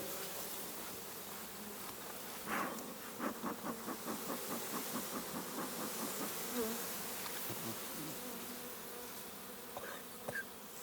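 Honey bees buzz steadily around an open hive on a calm day, a dense continuous hum with pulsing swells, close and loud throughout.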